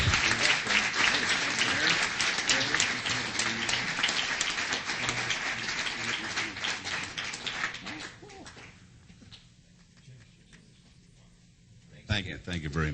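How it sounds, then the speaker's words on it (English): Audience applause at a city council meeting, steady clapping with some voices mixed in for about eight seconds, then fading to quieter room noise before a brief burst near the end. "Give him another round of applause."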